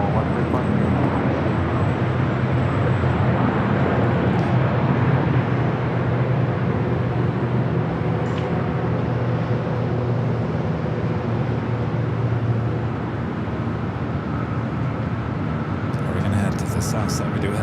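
Airliner taking off from runway 24 left at LAX, a steady broadband engine roar that holds strong and continuous throughout, with faint radio chatter beneath.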